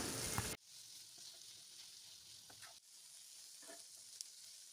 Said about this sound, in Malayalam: ഒരു രണ്ട് കറിവേപ്പിലയും കൂടെ ചേർത്ത് നല്ലപോലെ ഒന്ന് മിക്സാക്കി വഴറ്റിയെടുക്കണം